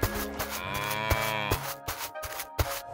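An animated cartoon cow lets out a long, loud, wavering moo that fills most of the moment, followed by a few short thumps and rustling sounds.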